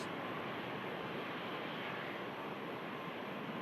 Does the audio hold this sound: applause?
no